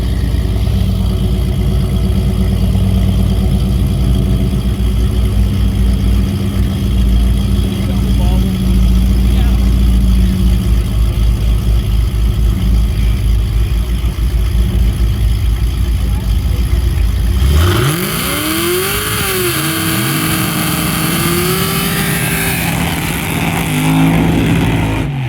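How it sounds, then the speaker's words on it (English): A rowdy El Camino engine rumbles loudly at idle with a rough, lopey note, then revs up in a couple of rising and falling pulls near the end, with people talking throughout. "Boy, that El Camino's rowdy."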